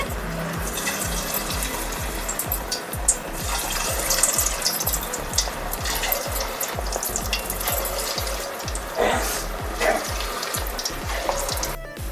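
Rice flour vadas frying in hot oil give a steady, close sizzle and crackle that runs the whole time, with light scraping and stirring sounds coming and going and no talk.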